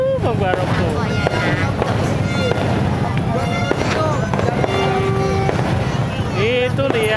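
New Year's Eve fireworks and firecrackers in West Jakarta crackle and bang continuously, loud and dense, with whistling rockets rising through the din while people chatter excitedly nearby.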